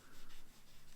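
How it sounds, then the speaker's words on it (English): Faint rhythmic rubbing of a J-cloth dampened with lighter fluid over a price sticker on a vintage carded Star Wars figure, quick soft back-and-forth strokes close up and quiet. "A little bit of lighter fluid on this J-cloth, and I'm just going to rub it into the price sticker"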